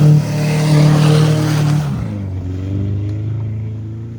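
A Subaru engine revs loudly nearby during offroad driving, a strong droning roar that holds and then drops to a lower, steadier running note.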